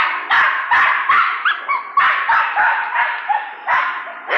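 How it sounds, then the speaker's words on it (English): A dachshund barks repeatedly along the San Antonio River Walk, loud and close, in a steady run of sharp barks with a few higher yips mixed in, carrying on without pause for several seconds. "that dash hound doesn't sound like the friendliest dog in the world, does it?"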